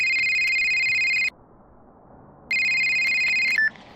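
A telephone rings with an electronic ringtone as the caller calls back: a steady warbling tone burst, a pause of about a second, then the ring starts again and cuts off abruptly.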